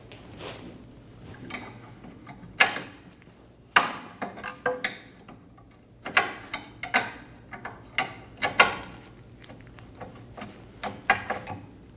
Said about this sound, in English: Using an 18mm wrench, we're going to loosen the nut for our lower control arm bolt.